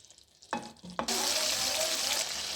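Ridge gourd (turai) frying in a pan, a steady loud sizzle that bursts in after a couple of brief clatters and then holds evenly, close by with no talk.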